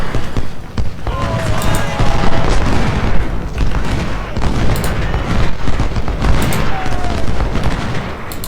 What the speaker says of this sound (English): now we face their bloody artillery